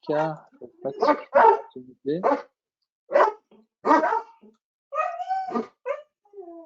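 A dog barks repeatedly in quick irregular bursts through an open microphone during an online meeting, close and fairly loud, with a few higher yips mixed in.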